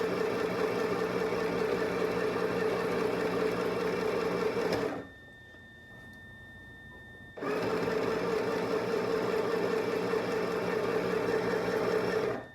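A sewing machine stitches a pant seam in two long, even runs of rapid motor whir, broken by a pause of a couple of seconds in the middle, loud and close with no talk.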